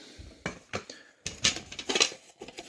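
Pieces of a vintage East German camping cookware set clink and clatter up close as they are handled: a frying pan, a windscreen, a grate and a small kettle, making a few sharp metallic knocks with short pauses between them.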